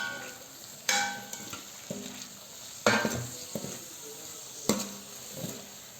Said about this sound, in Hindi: अब इसमें हम लोग जो है सब्ज़ मिर्च और धनिया, इसको हम लोग इसमें ऐड करेंगे। और ऐड करने के बाद आप लोग इसको मिक्स कर लें।